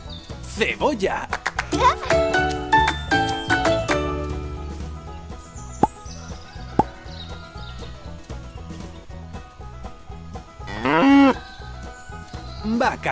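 A cow moos within a busy children's farm-animal sequence, the lowing rising briefly over music and other animal calls and voices.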